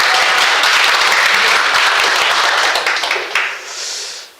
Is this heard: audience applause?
yes